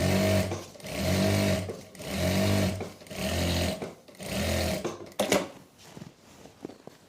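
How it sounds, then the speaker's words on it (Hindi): An electric sewing machine stitches a salwar seam with a half-inch margin, running in five steady, loud bursts separated by short pauses, followed by faint handling clicks and rustles of fabric at the end. "अब हाफ इंच का मार्जिन देते हुए एक और सिलाई पहले नीचे ही लगाएंगे।"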